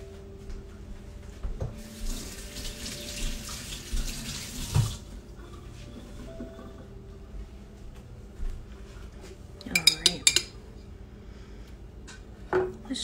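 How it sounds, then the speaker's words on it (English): A spoon being rinsed under a running kitchen tap while making egg salad, with a steady splash of water for a few seconds near the start, followed by faint clinks and handling sounds. "I'm gonna clean off my spoon first"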